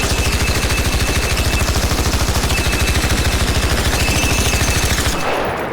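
Sustained rapid automatic gunfire in the video game Arc Raiders aimed at the Matriarch's heart, a loud, evenly spaced stream of shots lasting about five seconds before cutting off abruptly.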